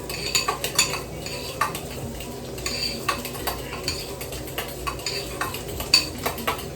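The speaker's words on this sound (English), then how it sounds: "I'm going to get another fork and just whisk this together" A fork whisks chili lime seasoning and cumin in a bowl, a steady run of quick light clinks and scrapes, close and fairly even in rhythm, with no voices.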